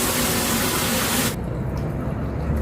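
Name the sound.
water being poured for cooking tuna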